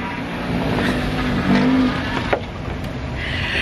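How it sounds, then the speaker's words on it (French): Several noisy cars drive past on a road in Martinique, a steady loud traffic roar with a brief tire-squeal-like tone midway and a sharp thump near the end, no talking. "Les voitures qui font du bruit,"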